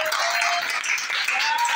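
A church congregation applauds in a dense, steady wash of clapping that fills the short moment, with voices calling out over the hands.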